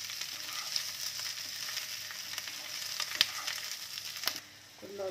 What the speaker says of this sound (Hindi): असी 2 मिनट फ्राई करांगे